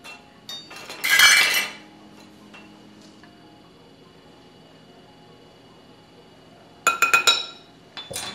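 A spoon stirring salt, coconut milk and vanilla in a bowl, two short bursts of clinking and scraping against the bowl separated by quiet, close and fairly soft.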